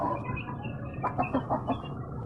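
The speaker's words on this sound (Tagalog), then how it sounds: "Yan, nagpapakain siya ng kanyang mga chicken." Chickens being fed cluck and murmur close by, a few short rising clucks over a steady low background of farmyard noise.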